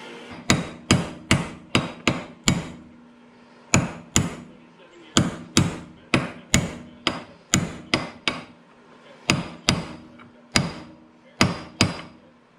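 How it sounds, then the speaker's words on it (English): Sharp hammer taps driving a bearing into place on a DR stump grinder, delivered in quick bursts of four to six strikes separated by short pauses, loud, close and ringing. "when you tap it in, tap it from this outer edge"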